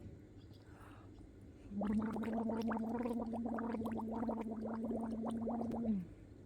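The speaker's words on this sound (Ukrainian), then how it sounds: "Робимо так звані бульбашки" Bubbles blown by exhaling through the mouth at the surface of pool water during a swimming lesson, a steady gargling burble lasting about four seconds, close and fairly loud, alone.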